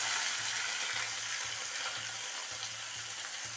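Chopped big onion frying in a pan, a steady close hiss and sizzle that runs unbroken throughout with no talking.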